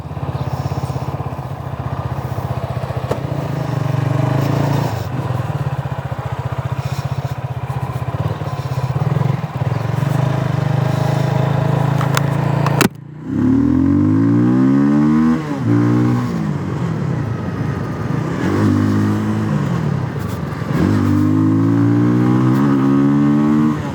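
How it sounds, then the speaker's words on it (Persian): A Benelli Leoncino 250 motorcycle engine runs loud and close on a test ride, holding a steady drone, then cutting out briefly before several rising and falling revs as it accelerates through gears. "خب دیگه کم کم موقعشه که بریم سراغ تست راید موتور"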